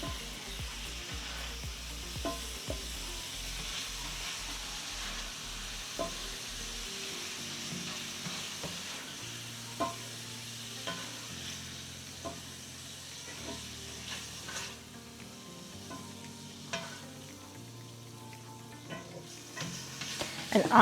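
Ground pork sizzling and being stirred in a hot skillet for a stir fry, a steady soft frying hiss with occasional scrapes and clinks of a utensil against the pan.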